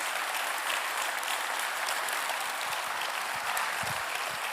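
Audience at an awards ceremony clapping steadily and fairly loudly, a dense even patter of many hands held throughout without any speech over it.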